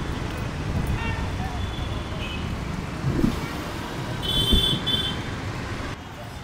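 Busy street traffic in Ahmedabad rumbles continuously up close, with engine drone, passing vehicles and a few brief horn toots, while someone talks over it.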